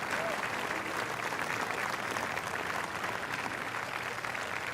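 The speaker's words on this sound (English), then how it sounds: "you saw how animated the crowd got" Golf gallery in a PGA Tour video game, at the Wells Fargo Championship, bursts into sustained applause and cheering, a dense, even wash of clapping that holds for the whole stretch at close, moderate loudness.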